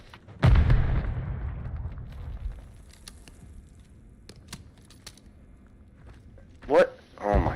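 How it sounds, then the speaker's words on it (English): A grenade goes off in a Call of Duty match, a loud low blast near the start rumbling and fading over a couple of seconds, followed by scattered clicks and a later pair of sharper bursts, with a player talking over the game. "My nade, watch out."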